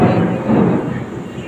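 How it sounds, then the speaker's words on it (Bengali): Thunder rumbles low and heavy through pouring rain outside a home kitchen on a rainy day, filling the brief moment with a dense, rolling roar. "আর এখানে প্রচণ্ড বৃষ্টি হচ্ছে, মেঘ ডাকছে, হয়তো তোমরা ভিডিওতে শুনতেই পাচ্ছ।"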